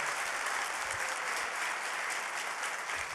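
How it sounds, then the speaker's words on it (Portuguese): A church congregation claps together in sustained, dense applause, steady and fairly loud throughout, with no voices standing out. "Uma salva de palmas ao Senhor pela vida desses irmãos."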